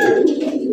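A racer pigeon gives one short, low, throaty coo, close and clear with nothing else heard.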